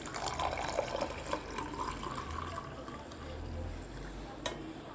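Hot water poured into Boost drink mix, a steady liquid pour at close range running for several seconds, with a low rumble underneath and a brief sharp knock near the end.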